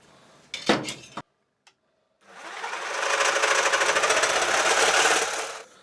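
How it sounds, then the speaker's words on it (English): A reciprocating saw cuts through the plastic handle of a walking stick, a steady loud buzzing rasp running for about three and a half seconds after a few handling knocks and a brief pause. "I'm going to cut this off with a reciprocating saw"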